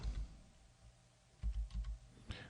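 Short bursts of clattering keystrokes on a computer keyboard, a quick cluster of several taps about halfway through and another brief tap near the end, close and fairly quiet over a faint background hum.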